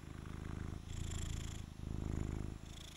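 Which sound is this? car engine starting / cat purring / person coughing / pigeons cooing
cat purring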